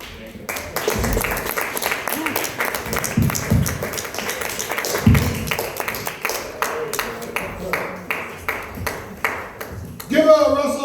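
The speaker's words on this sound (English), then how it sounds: "Give Russell a round of applause, everybody." Comedy club audience at the Helium in St. Louis applauding after a comedian's set, scattered claps building into steady applause with voices mixed in and a sharp ringing tone near the end.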